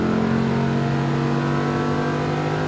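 Lamborghini Huracan on a track drive revving under throttle, a loud, close, sustained engine roar with rising tone over a few seconds and no talking.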